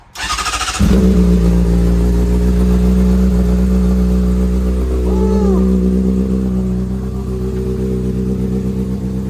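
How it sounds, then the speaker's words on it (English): A car engine cold-starts with a brief crank, then catches and settles into a loud, steady high idle close by, holding a constant droning tone to the end. "We gotta do the cold start"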